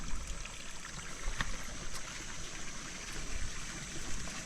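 Steady outdoor water flow from a natural spring on a chili farm, a soft continuous trickling wash with no talk over it.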